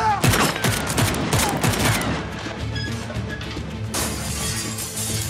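Gunfire from guns in a Turkish TV drama bursts as a rapid fusillade of loud cracks and shattering hits, dense at first and then thinning, with a shouted voice mixed in.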